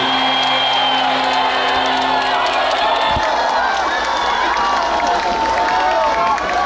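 A large outdoor crowd at a Korean presidential campaign rally in Suncheon roars with sustained cheering, whoops and applause, loud and dense throughout.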